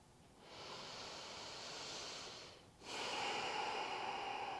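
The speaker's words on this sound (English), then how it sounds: "take a couple of breaths" Deep breathing during yoga breathwork: one long, steady airy inhale, a brief pause, then a fuller exhale, close to the mic and quiet.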